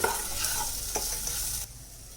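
Mushroom fry stirred and cooked in a kadai, a close, steady sizzle with a few spoon scrapes that cuts off abruptly near the end, no talking.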